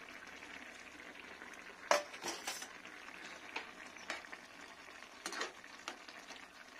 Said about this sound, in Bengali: ফুটছে কি সুন্দর